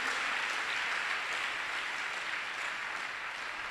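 A church congregation claps during a sermon, producing a thick, continuous wash of many hands clapping together at a steady level with no voices rising above it.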